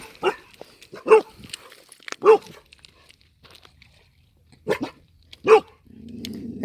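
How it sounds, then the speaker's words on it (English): A female dog named Midnight at a lakeside gives several short, throaty vocal bursts spaced a second or so apart, ending in a low rumbling growl, fairly close and with no talking. "Oh, she's got that growl."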